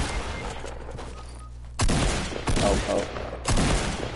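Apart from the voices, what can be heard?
gunfire in a video game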